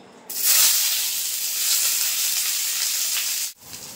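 Chopped onion hits hot oil that holds bay leaf and whole dried chilli, setting off a sudden loud hissing sizzle that holds steady for about three seconds and then cuts off sharply.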